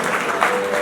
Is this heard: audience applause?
yes